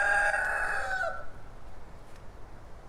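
A rooster in an organic Georgia garden crows once, a loud harmonic call that cuts off after about a second, leaving quiet outdoor background.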